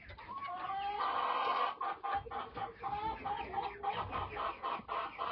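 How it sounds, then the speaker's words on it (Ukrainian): Roosters crowing and hens clucking up close on a farmyard in the morning, a loud crow at the start followed by steady chattering clucks and calls. "Ось такі півники."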